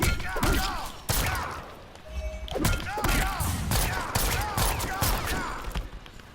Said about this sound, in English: That low gun shot is like -20 on block, but because of the pushback, it's hard to punish.